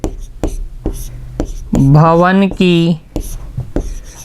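Chalk tapping and scraping on a board during a maths lesson, a series of sharp close strokes under a voice.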